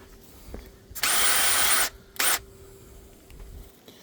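A drill bores into a meteorite in two bursts, a loud grinding whine of nearly a second followed by a much shorter burst, with a faint steady hum in the quiet between.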